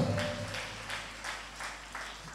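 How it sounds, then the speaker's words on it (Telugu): A church congregation claps along at a Christian gathering, in steady rhythmic bursts of about three claps per second over a low hum. The clapping is moderately loud and there is no talking. "కొట్టు చప్పట్ల గట్టి కొట్టు"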